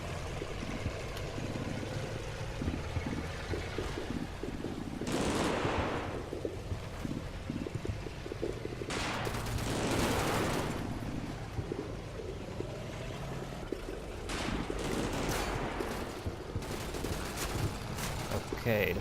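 Distant bursts and volleys of gunfire rumble across a World War II Normandy hedgerow battlefield in Combat Mission: Battle for Normandy. Rolling fusillades rise and fade over a constant low background noise.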